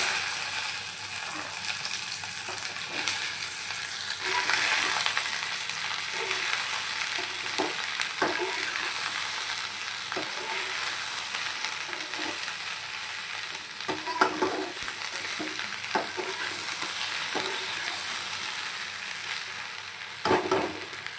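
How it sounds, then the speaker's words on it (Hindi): Sliced okra sizzles in a pan of hot tempering with turmeric, salt and basic spices, a steady close crackling fry with occasional scraping stir strokes, almost free of talk. "यहाँ पर भिंडी को मैंने लगा दिया तड़का, और जो बेसिक मसाले रहते हैं वो ऐड कर दिए हैं इसमें"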